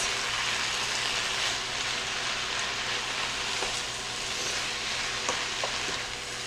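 Cabbage frying in a skillet with sausage and potatoes gives a steady, close sizzle with a dense crackle and a few light utensil clicks throughout, with no talking.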